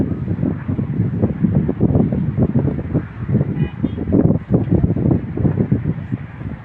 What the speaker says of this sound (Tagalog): Bagas yung hangin.